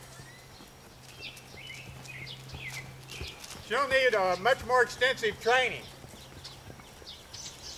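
The mare Stormy Moon trots with rhythmic hoof clip-clops, while someone talks over it and faint birds and a low hum sit behind.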